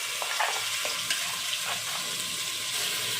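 Onions and masala sauté together in a pan for a country chicken gravy, producing a steady, close frying hiss with faint stirring scrapes underneath.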